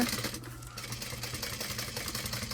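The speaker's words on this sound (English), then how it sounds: "so right here we're going to sew again because I messed it up" Sewing machine stitching a pack being modified to add battery-operated lights, running in a steady close rapid whir throughout, with a brief dip near the start.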